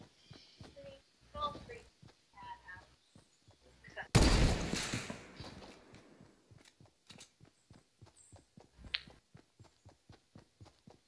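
Sniper rifle fire in the video game Fortnite: one loud, sharp shot with a long echoing tail, set among steady rhythmic clicking game sounds and brief faint tones, with no talk over it.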